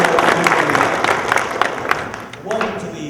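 Audience applause at the 2009 Rialto Sports Hall of Fame ceremony: a crowd claps steadily and briskly for a few seconds, with some talk mixed in.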